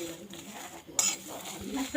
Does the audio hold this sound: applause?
no